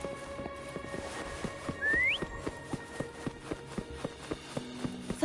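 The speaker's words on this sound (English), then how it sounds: "Try whistling." A single short rising whistle sounds in the video game Wuthering Waves over steady game music and regular footsteps, loud and clear for about half a second.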